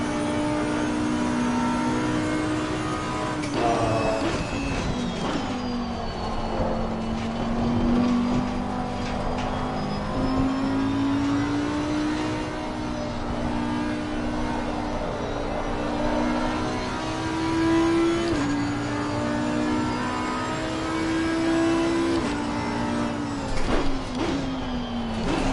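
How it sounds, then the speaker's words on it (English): A race car engine in the racing game Assetto Corsa Competizione, droning and revving continuously with pitch climbing through each gear and dropping at shifts, loud and close throughout. "God, this car sounds incredible in this game."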